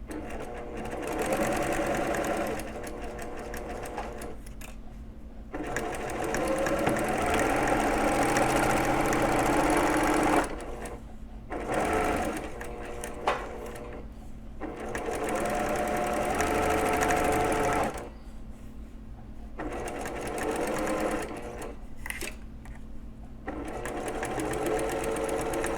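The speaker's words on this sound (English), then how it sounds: "I'm going to sew across the part I've already sewn" A sewing machine stitches a quilt block at a quarter-inch seam, running loud and close in long continuous bursts with brief pauses between runs.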